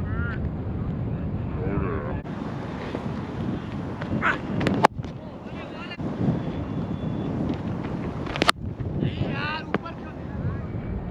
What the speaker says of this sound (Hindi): बहुत तेज हवा चल रही है यार